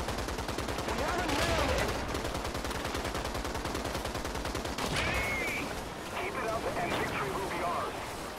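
Tank gunfire in War Thunder, with rapid machine-gun bursts rattling continuously and louder cannon shots, dense and loud, while voices talk over the action.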